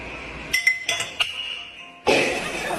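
Glass gives several sharp, ringing clinks, then a louder burst of shattering noise near the end, close and clear, with no voices.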